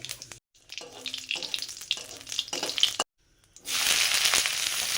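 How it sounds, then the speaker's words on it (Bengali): Whole chickpeas frying in mustard oil with dry red chilli and whole cumin, a steady close sizzle with stirring scrapes, broken by short silences, then a louder hiss of frying. "সর্ষের তেল, এবারে ছোলা একটু কষে নেব। শুকনো লঙ্কা, গোটা জিরে,"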